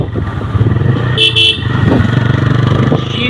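Several motorbikes ride together on a cold winter night, their engines droning steadily and close by, with a short burst of horn honking partway through.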